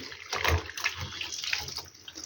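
Water runs and splashes as washed towels are rinsed by hand, with close, uneven sloshing and spattering bursts.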